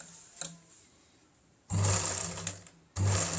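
A zig zag sewing machine stitching embroidery runs in two loud bursts of steady mechanical whirring, each stopping abruptly, after a quiet stretch with a faint click near the start.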